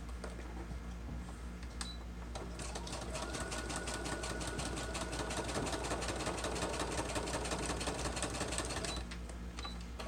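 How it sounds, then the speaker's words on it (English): A sewing machine stitches along the sides of a paper wallet made from computer-printed paper, a fast steady mechanical rattle running close and continuous over a low motor hum. "I'm just going to stitch all the way along these sides right here"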